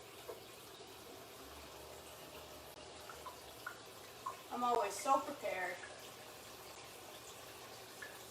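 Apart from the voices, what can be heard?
water filling Keurig coffee maker reservoir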